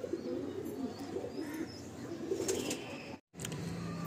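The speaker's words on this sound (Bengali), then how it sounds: "এই দুটো মেল পায়রা।" Two male pigeons at the Garia pigeon market coo in a steady, low, murmuring run of calls that continues almost throughout, with light rustling and a brief gap near the end.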